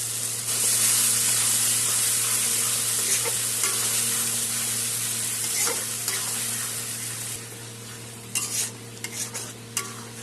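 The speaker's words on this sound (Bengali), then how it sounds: "মশলা কষানো হচ্ছে" Spice paste of green chilli, ginger, onion, tomato, cumin, coriander and red chilli powder sizzling in hot oil as it is stirred, a loud continuous frying hiss with scraping stirs and a few clinks near the end.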